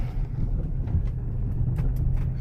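A $20 rally car running a lap through a yard at around 20 mph, spinning its wheels: a steady, loud, rumbling engine drone heard from inside, with occasional rattles and knocks.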